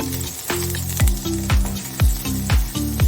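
Ginger-chili paste sizzling in hot oil with curry leaves as a tempering: a loud sizzle broken by a regular scraping stir roughly twice a second, close and clear, with no speech.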